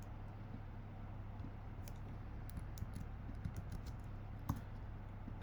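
Light clicks of someone typing an expression on a computer keyboard for a Qlik Sense formula, scattered and fairly faint over a steady low electrical hum.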